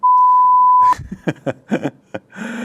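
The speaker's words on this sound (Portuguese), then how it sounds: "Então vai lá, toca o bip aí." A steady single-pitch censor beep sounds for about a second on a live Brazilian news broadcast, followed by brief clicks and scattered sounds.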